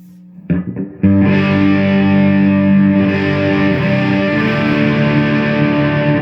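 An electric guitar is heard through a Fulltone OCD overdrive pedal with the drive turned up: a few muted picks, then a loud distorted chord held and sustained steadily for several seconds.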